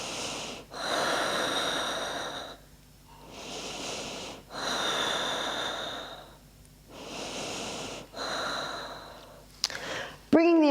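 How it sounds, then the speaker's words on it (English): Slow, deep breathing during a relaxing yoga session: long audible inhales and exhales in a steady rhythm, close and fairly soft, with a brief clatter at the end. "We're taking 5 breaths here."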